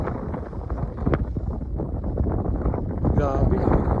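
Strong wind blows steadily across an open campsite at Sitio Apong in Sibalom, Antique, roaring into the microphone as a continuous broadband rush, with people talking close by throughout.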